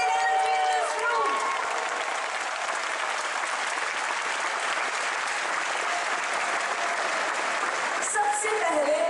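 A big audience at a Save Soil event with Sadhguru in Mumbai applauds loudly and continuously, dense clapping with some cheering and a few whistles near the start and end.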